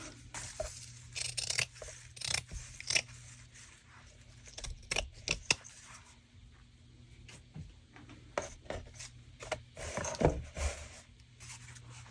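Scissors snipping through fabric for a junk journal topper, giving a series of short, crisp cuts and rustles close by in an otherwise quiet room, irregular in rhythm.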